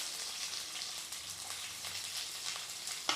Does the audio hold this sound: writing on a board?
no